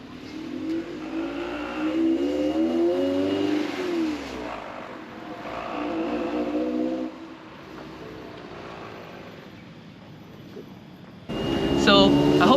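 A Toyota MR2 SW20, a JDM sports car, heard from inside during a ride: the engine drones and its pitch rises and falls through two stretches of acceleration, easing off before the sound abruptly resumes louder near the end.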